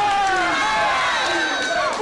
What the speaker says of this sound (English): listen to the crowd getting behind the Zebra Kid